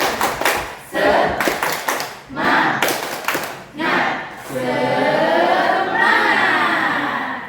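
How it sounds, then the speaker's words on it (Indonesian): A group at a teacher training session performs a rhythmic spirit clap, quick patterned bursts of hand claps and thumps followed by a longer blend of clapping and voices from the crowd. "Sekali lagi. Tepuk semangat."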